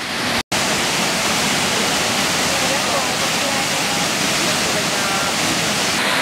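Lata Medang waterfall near Kuala Kubu Bharu, Selangor, Malaysia, reached on a jungle hike: a steady, loud, broadband rush of falling water fills the whole stretch, with one brief dropout near the start.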